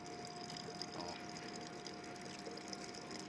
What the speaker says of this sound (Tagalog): Mahina lang tubig, tulo niya, pero kita niyo naman nakapuno naman din, no?